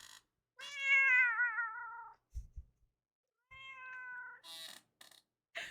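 A pet cat meows at home, two drawn-out wavering cries separated by brief rustling and small taps, close to the microphone, with a higher chirp near the end and no talk.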